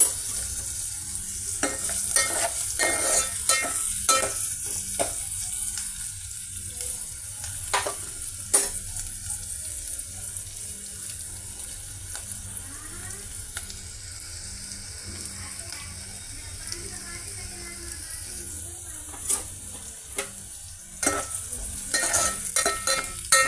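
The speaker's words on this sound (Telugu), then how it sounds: "ఇక లో ఫ్లేమ్ మీద ఇవి ఫ్రై అవుతున్నాయండి" Chana dal, onion and green chilies frying on low flame, a gentle continuous sizzle broken by scattered clicks and scraping stirs, moderately close and without talk.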